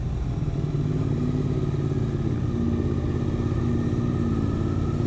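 A Suzuki GSX-8S motorcycle ridden along the winding mountain road to Cilaos, the route of 400 bends, gives a steady, close engine drone with a continuous rumbling tone for the whole stretch, and no voices are heard.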